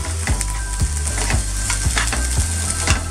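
A cup of tomatoes fries with browned onions in a hot pan, sizzling loudly. A spatula scrapes and stirs through them in a regular rhythm about twice a second.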